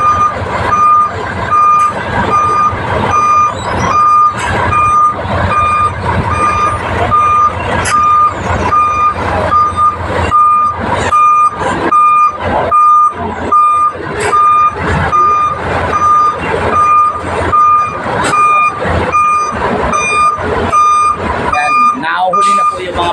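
Trucks reversing onto a ferry at a port while it loads, with steady high reversing beeps pulsing over low diesel engine rumble, loud and close, while someone talks over the noise.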